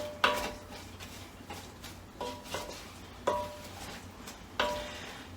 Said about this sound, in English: So I'm stirring them on like a medium-high heat.